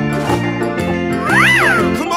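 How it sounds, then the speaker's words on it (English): A cartoon tiger's call, loud and close, a steady tonal yowl with a rising-then-falling pitch sweep near the end, more cat-like than a deep rumble, lasting about two seconds with no talking. "Tiger."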